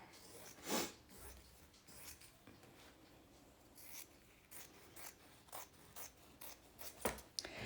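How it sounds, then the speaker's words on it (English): Fabric scissors snipping around a circle in fabric, with a few crisp close cuts and rustles spaced across the stretch, quiet between them. "I'm just going to cut a big circle around."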